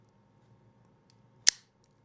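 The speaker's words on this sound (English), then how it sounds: "Just moistening it up before I use my V cutter" A V cutter snips the cap of an Oliva Serie V Toro cigar, a single crisp close click in an otherwise near-silent room.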